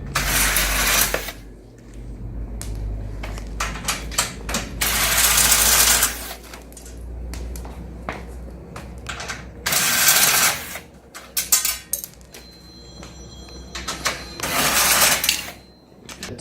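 A ratchet socket wrench with a 12mm socket undoes the bolts on a Thumpstar TSK50 shipping crate, giving repeated bursts of fast metallic clicking between short pauses and quieter handling noise, close and loud.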